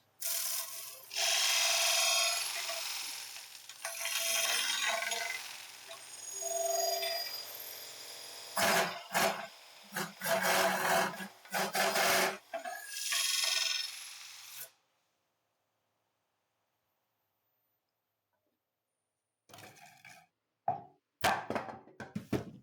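Wood lathe turning a wooden bowl, a steady loud scraping and whirring cut that pauses and restarts, then stops into silence before a few brief knocks and clatters.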